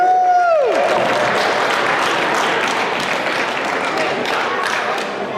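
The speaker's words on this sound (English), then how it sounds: "Give yourselves a round of applause." An audience at an independent wrestling show breaks into dense, sustained applause that fills the space. A brief voice with a falling pitch opens it before the clapping takes over at steady loudness to the end.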